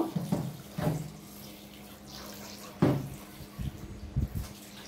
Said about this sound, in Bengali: মাংসগুলোকে এখন ভালো করে পানি দিয়ে ধুয়ে নেব